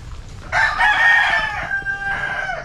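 A Tornado Hatch sweater gamefowl rooster crows nearby, a loud, drawn-out call that breaks briefly before trailing off, with quieter farmyard noise underneath.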